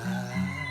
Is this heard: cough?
no